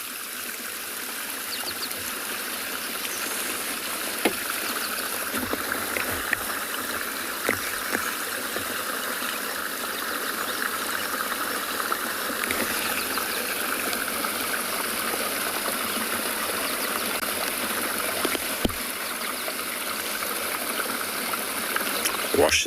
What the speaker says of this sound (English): It's very peaceful listening to flowing water.